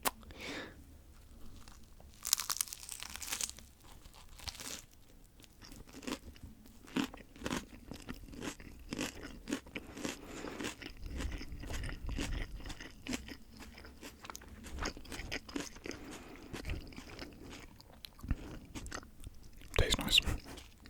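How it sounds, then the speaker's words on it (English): A Subway sandwich on Italian bread is bitten and chewed close to the microphone, giving repeated soft crunches and moist chewing with a few louder bites and a crinkle, under occasional quiet speech. "I can just tell I'm going to take a bite and it's all just going to collapse"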